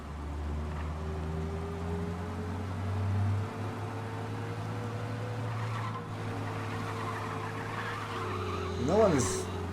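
A car engine hums steadily at speed for several seconds in the video game Mafia: Definitive Edition, with a rising whine near the end, fairly faint and continuous.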